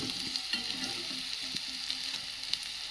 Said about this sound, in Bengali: আর চিংড়ি মাছের তরকারি রান্নার জন্য এদিকে মশলাটা কষিয়ে নিচ্ছি